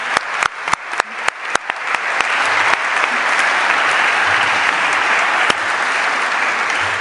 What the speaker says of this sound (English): we have to have one more round of applause for Tara and the students and Paul.